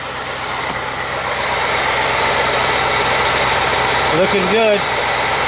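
A 2016 Ford F-150 XLT with the 5.0 V8 idles steadily after a transmission line repair, a constant close engine drone that runs the whole time while someone speaks briefly near the end.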